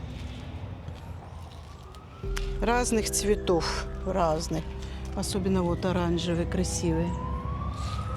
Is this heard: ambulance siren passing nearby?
yes